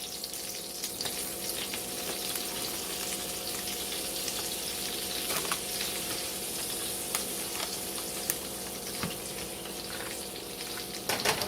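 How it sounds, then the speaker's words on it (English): Flour being whisked into melted butter in a pan over heat, a steady soft sizzle with faint stirring scrapes and light clicks throughout, no voices. "Now you're going to whisk in 3 tablespoons of all-purpose flour."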